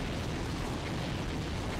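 Dense, continuous barrage of explosions from the Wii shooter game Counter Force, a loud rumbling roar of overlapping blasts with no break and no talk.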